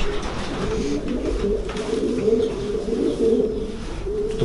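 Fast racing pigeons in a breeding loft coo steadily in overlapping, throaty rolls, several birds close by, over a constant low background murmur.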